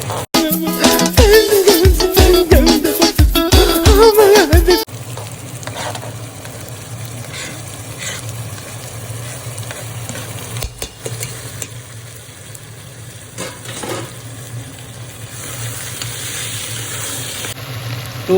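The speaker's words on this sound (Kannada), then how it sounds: "to 3 ಮಿನಿಟ್ಸು ಇದು ಫ್ರೈ ಆಗಬೇಕು" Ginger paste and tomato fry in a pan, starting with a loud burst of busy clattering stirring for about five seconds, then settling into a steady, quieter sizzle with occasional scrapes.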